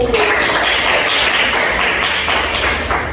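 A classroom of students clapping for group 1 after their presentation, a dense, steady patter of many hands sustained at close range throughout.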